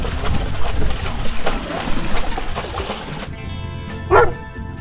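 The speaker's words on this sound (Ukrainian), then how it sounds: "Чого ти на нас гавкаєш?" A dog barks and yips a few times amid rustling and wind-like noise, with one clear, nearby bark near the end.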